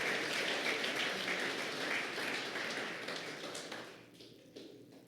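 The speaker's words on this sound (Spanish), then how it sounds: "Si va a aplaudir, apláudale a Cristo Jesús." A church congregation's applause at a Sunday service, dense crowd clapping heard from a distance that holds steady, then thins and fades out over the last second or so.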